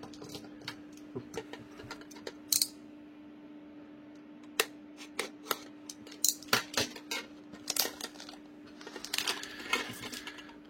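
Pokémon Celebrations 25th-anniversary booster packaging being carefully opened by hand, a scatter of close crinkles, clicks and plastic snaps in irregular bursts over a quiet steady hum, without speech.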